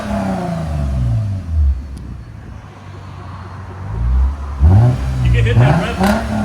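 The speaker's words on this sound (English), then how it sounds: "Hit that rev limiter." A 2015 Lexus RC 350 with a 3.5L V6, APEX mufflers and resonator delete revs up twice, the engine note climbing sharply and dropping back, with people talking nearby between and over the revs.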